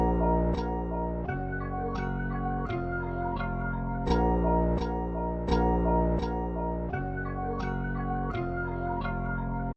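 A dark music sample, chopped, time-stretched and slightly flipped, plays as a steady, loud musical loop with rhythmic chopped accents roughly every half second and a sustained low end.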